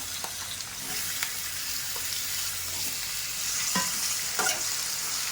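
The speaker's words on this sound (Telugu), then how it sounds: "ఇవి కూడా ఒక నిమిషం అయితే యాగాలి నూనెలో తర్వాత చికెన్ వేసుకుంటాం" Potato pieces frying in a pan of hot oil at home, a steady broad sizzle running throughout with occasional soft stirring knocks, fairly close and with no talking.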